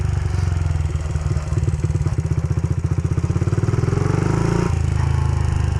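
A stunt motorcycle's engine chugs loudly and close during wheelie practice, its rapid pulsing beat climbing steadily in pitch as the throttle is held, then dropping sharply when the rider lets off.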